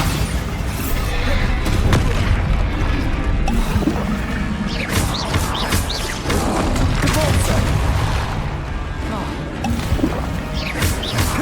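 Spell blasts and explosive booms from the Bombarda charm in Hogwarts Legacy, rolling loud and dense over nearly eleven seconds amid other spell effects, with a voice calling out over the din.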